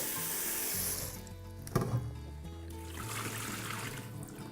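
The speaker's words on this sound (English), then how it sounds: "The first thing we're going to do is wash our greens. A quick rinse is all that's needed." Greens are rinsed briefly under a running kitchen tap before going into a green smoothie, with faint, steady splashing water and a small clatter midway.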